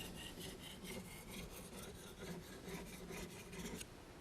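A ceramic sharpening rod is drawn lightly through the serrations of a kitchen knife in a quick series of soft, rhythmic scraping strokes, faint and close, with no talking.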